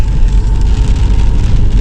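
Rain falling during a drive on a slippery mountain road toward Tawang, heard as a steady, dense wash of loud rain hiss over a low, constant road and vehicle rumble, with no break throughout.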